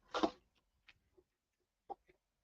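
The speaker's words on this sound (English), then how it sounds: "hear the birds" Faint, sparse bird calls outdoors: one louder call at the start, then a few brief scattered chirps separated by quiet gaps.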